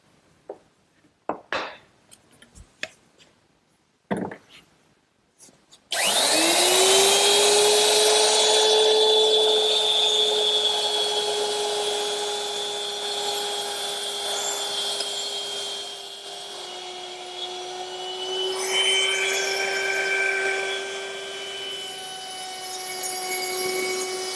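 A router fitted with a round nose bit and a fence cuts a groove in wood for a chest-on-chest. A few knocks and clicks come first, then the motor bursts into a loud, steady, high whine that holds strong to the end.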